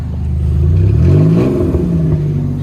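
A Chevrolet car engine catching and revving up, a loud close rumble whose pitch rises steadily then settles into a throbbing idle, alone without voices.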